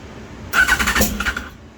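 A rebuilt 2005 Yamaha FZ1 motorcycle on choke cranks and catches for about a second, a close, loud burst of starter and engine noise that then fades back to quiet.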